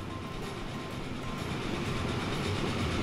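A train rolls past in the rail-building game Transport Fever with a steady, close, fairly loud mechanical rumble and rail noise that swells slightly as it passes, with no talking over it.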